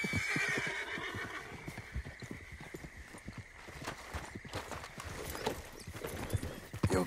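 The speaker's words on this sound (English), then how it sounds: "Ain't you a good horse?" A horse in the video game Red Dead Redemption 2 gives a loud, drawn-out whinny while its hooves clop in a quick, steady rhythm close by.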